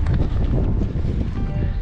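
Strong gusting wind buffeting the microphone, a loud low rumble throughout with no break.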